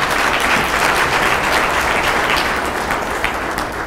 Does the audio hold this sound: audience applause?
yes